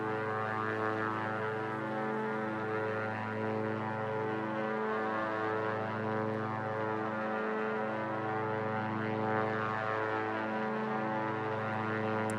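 A Diamond 62 twin-engine plane in the X-Plane 11 flight simulator drones steadily, a constant propeller-engine hum with many layered tones and slow, regular beating swells, no talking.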